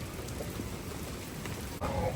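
Steady heavy rain pours during a storm with baseball-size hail on a family farm, a dense continuous hiss close by with faint scattered impacts.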